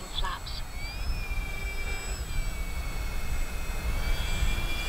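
Avios Albatross RC flying boat on water during a slide and go, its electric motor whining steadily and rising in pitch over a rough rushing wash of water and wind.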